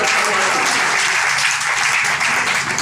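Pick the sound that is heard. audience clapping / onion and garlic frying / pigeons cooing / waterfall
audience clapping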